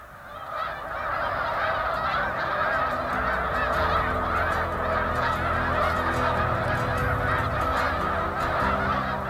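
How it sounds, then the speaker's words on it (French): A large flock of snow geese at Baie-du-Febvre, Quebec, honking loudly and constantly: a dense, overlapping chorus of nasal calls with no pause, close and filling the whole scene. "Baie-du-Fèvre, entre Nicolet et Sorel, est devenu un grand lieu de rassemblement des oies blanches"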